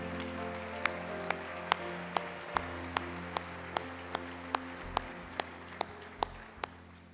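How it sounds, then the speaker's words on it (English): Applause at an award dinner rises in a steady room murmur, punctuated by regular, crisp ticking clicks about every third of a second that stand out above the softer clapping, with a low hum beneath. "Let's give them a round of applause."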